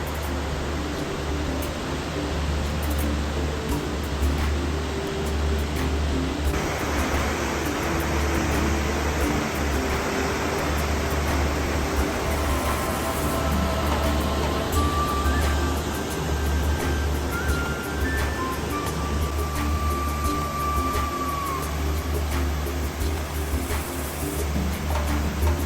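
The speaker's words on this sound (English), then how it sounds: "It's a giant waterfall with cascades of pools underneath." A giant waterfall in Salalah pours over cascading pools, giving a constant, broad roar of rushing water heard steadily from nearby, with faint higher tones drifting over it.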